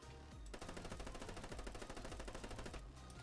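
Automatic gunfire in Arma 3, a fast unbroken burst of rapid shots lasting over two seconds, fairly faint overall, starting and ending abruptly.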